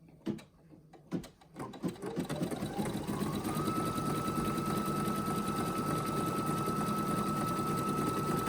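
A Brother embroidery machine (NQ1700e or PE800) runs a double bean tack-down stitch on a triangle coin purse project, starting with a few clicks before settling into a steady, close, continuous whirring hum with fast rhythmic needle pulses.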